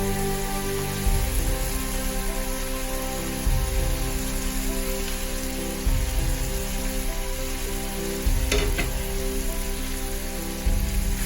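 Chopped raw onions that were washed beforehand hit hot oil in a pan for a chicken and rice dish, giving a steady loud sizzle and crackle with soft stirring knocks repeating through it.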